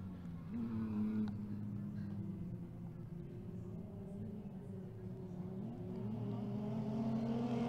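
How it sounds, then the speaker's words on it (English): Mini stock short course off-road race trucks rumble and drone at a distance during a Victorville race, engine tones rising and falling steadily under a low, constant roar. "Let's see if Orr can come up and get on his back bumper one more time."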